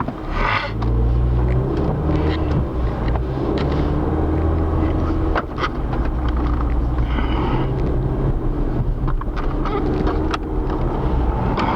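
A 2016 Ford Fiesta on a day drive to the tax collector, heard from inside as a steady loud road rumble and engine drone with wind noise, continuous throughout with a few faint clicks and knocks.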